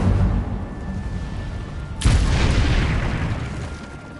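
A fiery spell cast in Hogwarts Legacy hits with a single sudden whoosh-boom partway through, and a roaring crackle then fades slowly over a steady game backdrop.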